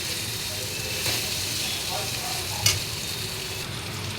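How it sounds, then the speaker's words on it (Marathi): Vegetables and whole spices for veg pulao are fried in oil, with a steady close sizzle and occasional stirring scrapes throughout. "ही देखील आपण छान परतून घेऊ।"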